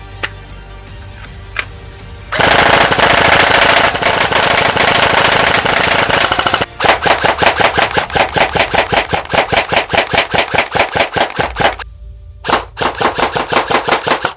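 An S&T E11 Star Wars blaster airsoft gun fires on full automatic: a long, dense stream of loud, close shots, then a string of rapid rhythmic bursts with brief pauses between them. No one speaks.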